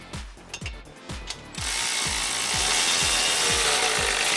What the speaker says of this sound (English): with a 15 millimeter, we can go ahead and tighten up our clamp.